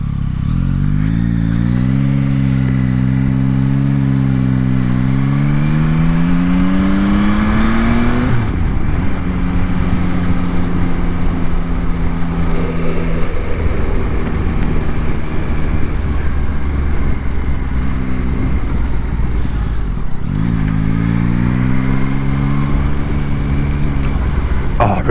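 A Yamaha Tracer 9 GT motorcycle revs while riding, its engine climbing in pitch through gears, dropping at shifts and rising again, loud and continuous over wind noise.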